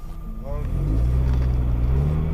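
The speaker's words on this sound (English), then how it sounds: "the man in the car quickly drives away" A car drives off quickly, caught on a dashcam: a steady low engine and road rumble that swells slightly as it pulls away, with a brief voice at the start.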